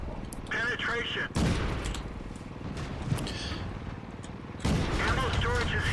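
World of Tanks tank cannon shots as a loud, sharp blast near the start, followed by a continuous low engine rumble. A second heavy burst comes near the end, and voices talk over the game sound.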